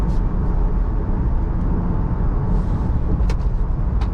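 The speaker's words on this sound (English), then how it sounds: "This has more road noise" Steady low rumble of road and tire noise inside a Jeep Grand Cherokee V8 cruising at highway speed, with a constant broadband roar and faint brief hiss bursts near the end. No one talks.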